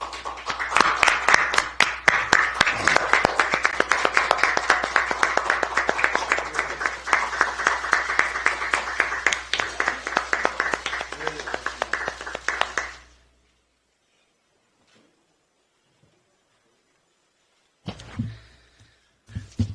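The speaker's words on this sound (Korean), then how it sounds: "김남근 변호사를 박수로 환영해 주십시오" An audience applauds to welcome lawyer Kim Nam-geun at a Democratic Party of Korea recruitment event, with dense, sustained clapping for about thirteen seconds that stops abruptly, followed by silence and a brief faint noise near the end.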